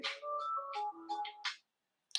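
A mobile phone rings during a talk, a short electronic melodic ringtone of several tones playing close and clear, then cutting off, followed by a brief click.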